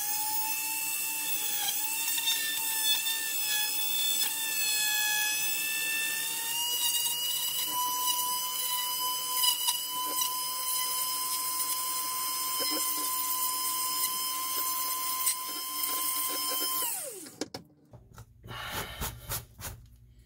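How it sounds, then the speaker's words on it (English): A small high-pitched rotary drill whines steadily for a long stretch while drilling wiring holes in a Star Trek Enterprise-B model kit, its pitch shifting slightly, then winds down and stops, followed by brief scraping noises. "I need to drill holes here for the wiring to go through."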